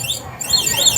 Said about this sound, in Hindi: वैसे ही यहाँ पे अलार्म बजेगा।